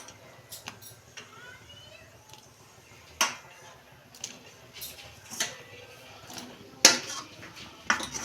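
Milk puli dumplings dropped into hot milk in a pot, heard as scattered clinks and taps of a spoon against the metal pot over a quiet background.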